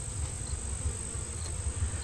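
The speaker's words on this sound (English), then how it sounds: "there's male bees on this frame up here as well by my thumb" Honeybees on a hive frame holding drone and worker brood, seen during a September hive inspection, hum in a low, continuous murmur close by, with a thin steady high tone running over it and no speech.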